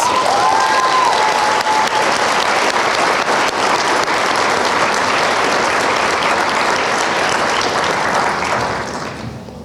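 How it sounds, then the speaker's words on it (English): Audience applause at a 2022 graduation ceremony for student leadership members, a dense, loud, sustained wash of clapping from a large crowd lasting nearly ten seconds before tapering at the end, with a brief voice at the start. "So please join me in giving another round of applause to every one of our members"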